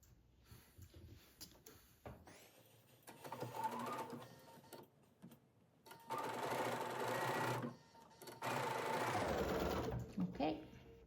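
Sewing machine stitching quilt block pieces together, two sustained whirring bursts of stitching with short pauses and fabric handling between them, close and clear with faint talk.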